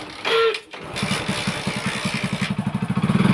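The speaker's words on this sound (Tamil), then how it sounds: "வண்டி அருமையாக ஸ்டார்ட் ஆகுது அருமையாக" A Hero Passion Pro motorcycle, with its tank just refitted and a plug adapter fixed, starts up close by with a brief crank burst, then settles into a steady, quickening idle thump.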